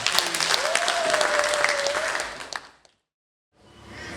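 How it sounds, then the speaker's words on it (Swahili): An audience at the launch of an album claps and cheers loudly for over two seconds, fades to brief silence, then a second burst of applause begins. "Makofi mengi kwao."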